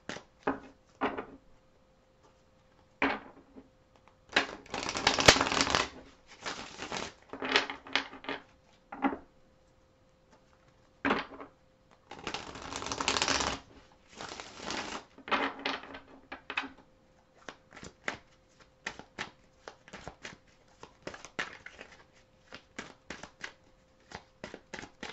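Tarot cards are shuffled and drawn at a love reading, heard as sparse close papery flicks and taps with a few longer bursts of riffling, quiet with gaps between.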